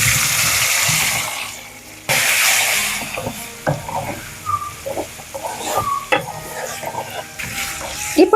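Boiled chicken seasoned with salt and turmeric drops into a hot pan and fries, a broad hiss settling into scattered crackles and spoon scrapes, close and moderately loud with no talking.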